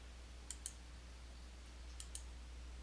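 Mouse clicks in Photoshop Elements Organizer, faint and crisp, coming as two quick pairs spaced well apart over a quiet room hum.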